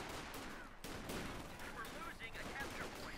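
Infantry gunfire in the World War II strategy game Company of Heroes 2, a brief burst of overlapping rifle and machine-gun rattle, fairly faint, with battlefield chatter mixed in.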